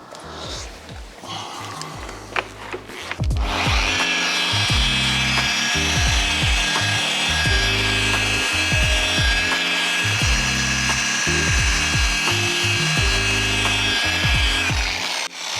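Hard, nearly five-month-old paint on a car is cut back by machine in steady repeated passes, a loud continuous grinding whir with rhythmic pulsing strokes lasting throughout, close by and without talk.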